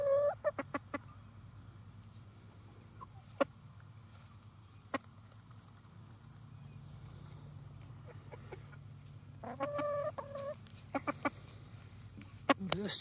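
A backyard chicken clucks in short, scattered bursts, some close and some softer, over a steady low background hum.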